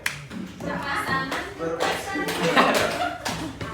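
A classroom group claps hands, elbows and shoulders in a tepuk-style game, giving rapid uneven patting and clapping mixed with voices and chatter throughout.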